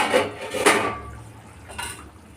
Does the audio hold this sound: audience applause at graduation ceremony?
no